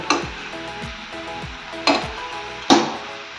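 Cabbage curry cooking in ghee, a soft continuous sizzle broken by several utensil scrapes and three sharper clinks of a spoon against the pan, close and fairly quiet.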